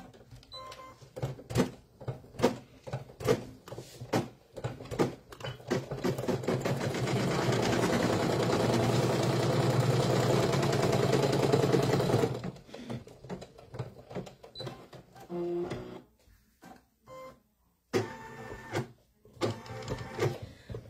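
An embroidery machine stitches the placement line for a vase in an in-the-hoop hummingbird wreath project, with a steady rapid mechanical chatter that swells loud and continuous mid-way, then breaks into shorter stop-start bursts.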